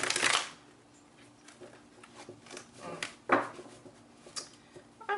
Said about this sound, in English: I'm sensing one more shuffle because that one was not top notch.